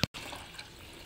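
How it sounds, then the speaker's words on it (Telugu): Rice-washing water poured onto potted orchid plants: a soft, steady wash of running liquid after a brief click at the start, faint and continuous with no voices. "సో బియ్యం కడిగిన వాటర్ ఇద్దాం ఇప్పుడు ఆర్కిడ్స్ కి"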